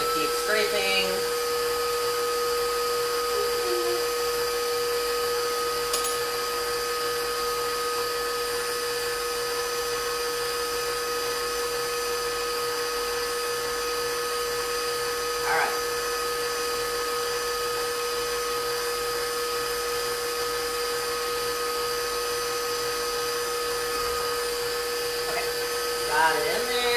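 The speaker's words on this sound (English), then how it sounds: "now I'm going to let it mix until it is pretty well mixed, or at least evenly mixed" An electric mixer whirs steadily through low-carb cream cheese chocolate cookie dough, a constant high motor hum with faint clinks from scraping, lasting the whole stretch at an even level.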